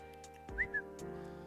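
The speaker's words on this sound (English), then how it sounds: "Now, we're actually pretty good at whistling." A single whistled two-note call rings out briefly, a rising then falling tone, faint against a steady low hum in the room.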